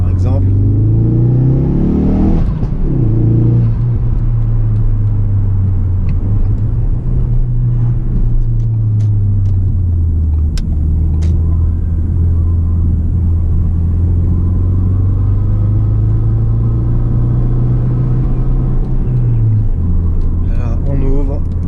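Ford Focus RS mk3 engine heard close up, a deep, steady rumble that climbs sharply as the throttle is blipped early on, then holds a throaty idle-to-mid-rev drone with small rises and falls.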